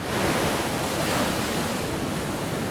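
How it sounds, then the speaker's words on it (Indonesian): High sea waves three to four metres tall pounding the beach at Payangan Watu Ulo, Ambulu, a loud, continuous roaring wash of surf mixed with wind buffeting the microphone. "gelombang laut masih tergolong sangat tinggi hingga mencapai 3 hingga 4 meter"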